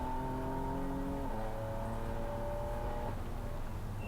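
A sports car on the Laguna Seca race track, its engine drone steady and close, with a downshift midway as it brakes late into a cambered turn.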